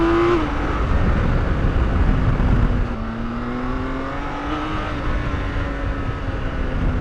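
A 2023 BMW K1600 Bagger, a heavy six-cylinder touring motorcycle, is ridden hard on a scratchy back road, its engine pitch climbing and falling through the gears, loud and close.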